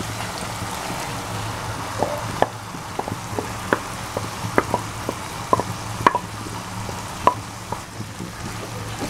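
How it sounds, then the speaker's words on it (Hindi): Chicken mash daal sizzling and frying in a pan, a steady soft hiss with scattered clicks and taps of a spoon stirring, close and moderately quiet. "अब इसको थोड़ा सा हम मज़ीद फ्राई करेंगे और साथ इसको थोड़ी देर के लिए दम लगा देंगे।"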